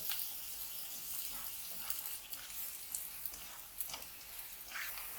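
Chopped onions sautéing in a pan for oats upma, a soft continuous sizzle with faint scraping stirs, quiet and close with no talk.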